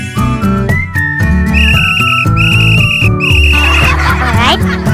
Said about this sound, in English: To wake them up, I'll need my special pink whistle.